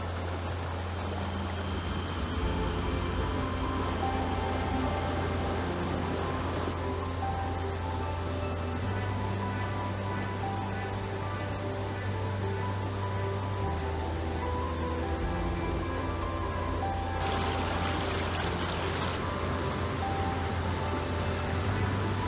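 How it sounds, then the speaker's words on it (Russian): Shallow mountain river rushing over smooth stones in Transcarpathia, a steady dense wash of flowing water heard close and continuous with no talk. "Поток воды такой мощный, что камни стали совсем гладкими."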